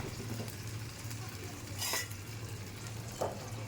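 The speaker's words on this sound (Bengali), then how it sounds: "এখন গরম জল দিয়ে দেব পরিমাণ মতো।" Hot water goes into a pan of cooking moong dal, giving a steady close hiss and sizzle with a brief louder surge and a couple of soft metallic clinks from the pan.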